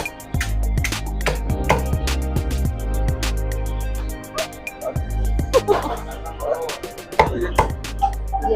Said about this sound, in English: Cutting up pork.